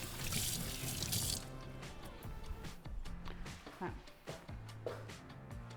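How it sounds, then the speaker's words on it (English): A kitchen tap runs into a sink as hands are washed after handling raw beef for satay, a loud bright gush at first, then splashes, drips and handling noises as the water cuts off. "Wash my hands after stitching the meat."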